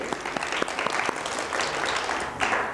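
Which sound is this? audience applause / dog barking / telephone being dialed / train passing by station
audience applause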